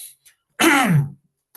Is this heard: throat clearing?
yes